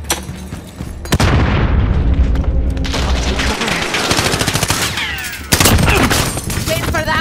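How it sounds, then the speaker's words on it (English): A grenade explodes in Call of Duty Modern Warfare among heavy gunfire, with booming blasts and rapid automatic shots. A second sharp explosion follows, and voices are heard underneath. "Throwing grenade!"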